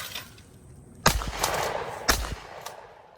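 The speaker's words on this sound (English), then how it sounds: "That 20 gauge ain't very loud, is it?" Two sharp shotgun blasts from a 20 gauge fired at thrown clay targets outdoors, spaced about a second apart, each with a short crack and brief fading tail.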